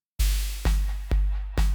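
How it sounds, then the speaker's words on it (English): Electronic beat where only the clap carries an airy ping pong delay, four loud hits with bright echoing tails that keep oscillating over a deep kick, no voices. "So this is an airy ping pong delay,"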